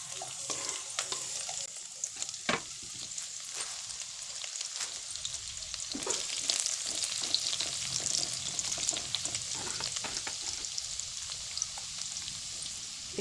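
Garlic dropped into nearly half a bowl of hot oil for lasooni palak paneer fries with a continuous crackling sizzle, close and steady, with occasional stirring clicks and no talking.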